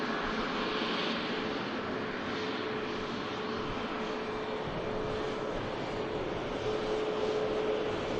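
Airliner at Manchester Airport producing a steady jet engine roar with a faint whine, continuous and moderately distant, no voices over it.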